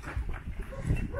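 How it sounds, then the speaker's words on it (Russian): A dog at a house in St. Petersburg, near a bathhouse, gives a couple of short low barks or woofs under a bit of background murmur. "Ой, собака."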